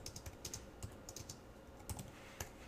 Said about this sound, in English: Now, as I'm typing this